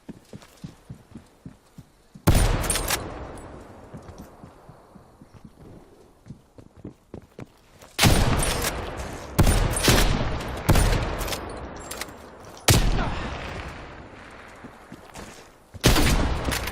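Bursts of gunfire in Call of Duty: Cold War multiplayer, loud sharp volleys at irregular intervals with quieter rapid clicking and footstep-like taps between them, no talking.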